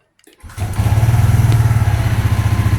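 An AX200 motorcycle engine cranks and catches after a brief silence, then settles into a steady, loud, close-up idle with a fast, even pulsing beat.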